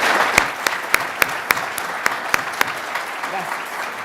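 Audience at a church gathering in Asunción, Paraguay breaks into warm, steady applause, dense clapping with a few sharp louder claps standing out, continuous throughout the short stretch.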